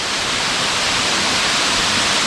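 Laimaram waterfall in the middle of a forest, water plunging from a height of 300 metres, heard as a steady, loud, broadband roar that stays constant throughout with no voices over it.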